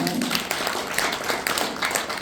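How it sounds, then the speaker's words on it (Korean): Audience at a health seminar claps together for a guest, a steady, fairly close wash of applause lasting a couple of seconds. "큰 박수 부탁드리겠습니다."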